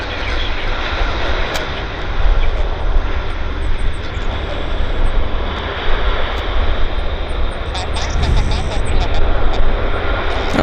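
An airplane landing at Vancouver International Airport (YVR) makes a loud, steady engine roar that holds for the whole stretch, with no clear speech over it.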